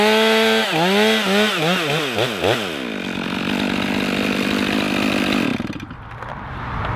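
A chainsaw revs up and down in several quick bursts, then settles into a steady, loud cutting drone while felling a tree, before the engine drops back toward idle near the end.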